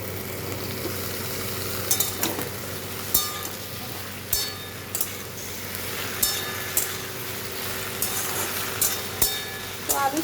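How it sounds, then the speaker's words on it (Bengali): Okra and potatoes, with chopped onion, fry together in mustard oil, giving a steady low sizzle broken by regular clinks and scrapes of a spatula stirring against the pan, nearby and with no talking. "আলুর সঙ্গে ভেন্ডিটা একটু খুব ভালো করে ভেজে নিচ্ছি"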